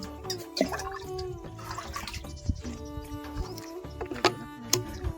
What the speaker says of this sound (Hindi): तो ये एक लोटा में पानी का निकालता हूँ ड्रम में से।